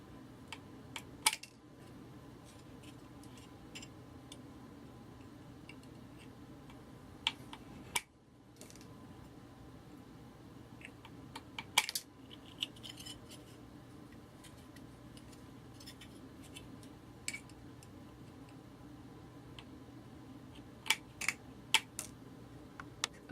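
Thin metal being cut with snips for a miniature dollhouse cake pan, scattered sharp clicks and ticks spread unevenly over a quiet room hum, close but soft.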